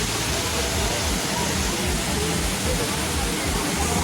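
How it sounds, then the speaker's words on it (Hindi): Kangthi Langso Waterfall gives a steady, loud, broadband roar of falling water that fills the whole stretch without a break. "यहाँ पर सिर्फ वाटरफॉल है, ये है वाटरफॉल दोस्तों।"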